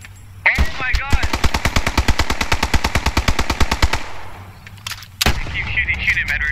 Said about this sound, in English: Keep shooting, Edward.